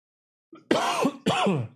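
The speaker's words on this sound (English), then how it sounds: "Excuse me for coughing." Two harsh throat-clearing coughs from a man, close and fairly loud, the second following quickly after the first.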